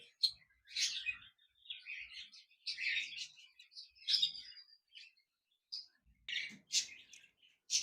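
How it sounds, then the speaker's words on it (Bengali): Pair of classic budgerigars in a cage at a bird seller's, giving repeated bright chirps and warbling calls in short bursts throughout, fairly close with no talking. "এখানে আরেকটি জোড়া ক্লাসিক বাজরিকার পাখি রয়েছে"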